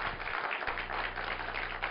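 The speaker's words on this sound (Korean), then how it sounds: "우리 수고하는 청년들이 박수 한번 주세요." A church congregation applauds young volunteers, a steady close wash of clapping that runs unbroken for the whole stretch, with a low hum underneath.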